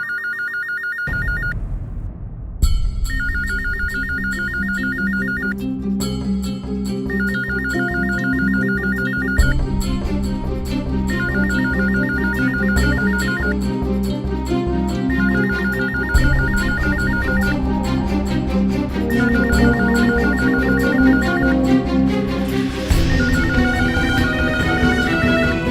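A telephone rings steadily in repeated electronic bursts, loud and close, under dramatic background music in a Hindi TV crime drama, with no talking.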